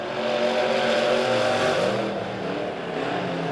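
Midwest modified race cars roar through the turns at a raceway, a loud continuous engine drone with shifting pitch as they power around the corners.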